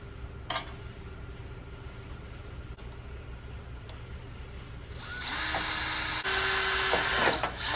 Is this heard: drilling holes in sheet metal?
yes